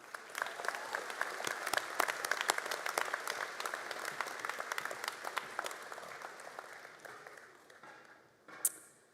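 A large audience at a university fall convocation applauds graduates with sustained, dense clapping that swells and then tapers off, ending with a single sharp knock.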